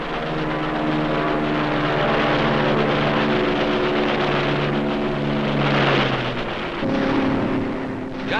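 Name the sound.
navy fighter and bomber aircraft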